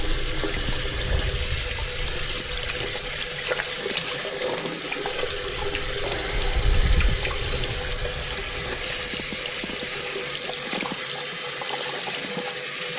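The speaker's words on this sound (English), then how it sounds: "That's what I use mostly to wash my hands." Running water from a sink tap pours steadily while hands are washed with green soap and water, a continuous close splash with a brief louder gush midway and no talk.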